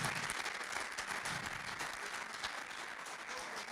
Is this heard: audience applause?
yes